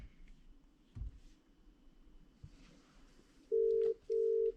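A call goes out through a CarPlay head unit in a BMW: a few soft clicks in a quiet cabin, then two steady ringback tones of equal length with a short gap between them.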